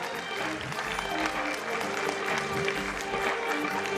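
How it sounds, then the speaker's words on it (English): Steady audience applause fills a ceremony hall at a memorial awards event, a dense even clapping that holds throughout without fading, with a faint murmur of voices beneath. "Big round of applause for her."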